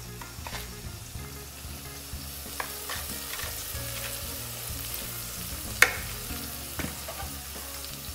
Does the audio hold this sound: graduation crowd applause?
no